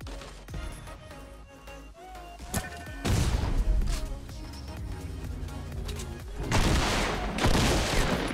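Rapid bursts of gunfire from a Fortnite match crack and boom with crashes layered in, dense and loud, swelling toward the end.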